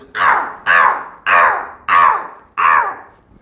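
A man on a comedy stage imitates a crow's caw with his voice: five harsh, evenly spaced calls, loud and close, with no other talk.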